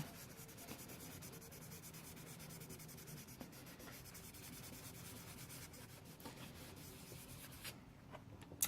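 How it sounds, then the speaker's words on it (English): A fingertip rubs dry pastel into paper in small circles, giving a faint, steady, soft scratchy rubbing close by, with no talk. "now I'm just going to use my finger in little circular motions, and I'm going to rub right into that"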